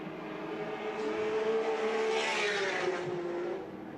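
Touring cars racing at Lakeside in the 1984 Australian Touring Car Championship, a steady, moderately distant engine drone that swells as the cars pass and fades near the end.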